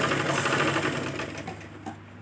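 A sewing machine runs steadily while stitching a blouse, a close, fast mechanical whir that slows and stops near the end.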